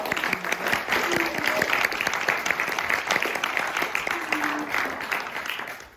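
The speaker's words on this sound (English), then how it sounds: "please one more round of applause for Tū Tāne Kai" Audience applause at a Maori cultural show at Te Puia in New Zealand: steady, crackling clapping from a crowd, with faint voices and a couple of brief calls mixed in, fading at the end.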